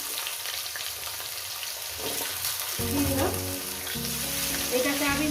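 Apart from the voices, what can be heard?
potatoes frying in pan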